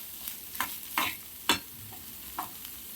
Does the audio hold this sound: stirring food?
yes